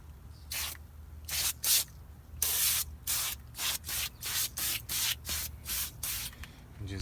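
A spray can coats a car in a series of about a dozen short, close hissing bursts separated by brief pauses, one longer burst early on.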